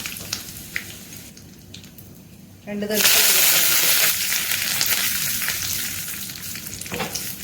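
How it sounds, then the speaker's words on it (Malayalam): A loud, steady sizzle of dried red chillies dropped into hot coconut oil after mustard seeds have popped, preceded by quieter crackling and a few pops, with a brief voice over the start. "കടുക് പൊട്ടി വന്നിട്ടുണ്ട് ഇതിലേക്ക് വറ്റാമുളക് മുളക് ഇട്ട് കൊടുക്കാം"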